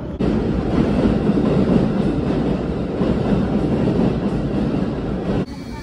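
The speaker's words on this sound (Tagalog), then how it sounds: "Sakay na po tayo ng train." A train rolls along with a loud, continuous rumble and rattle heard from on board, steady throughout before dropping off abruptly near the end.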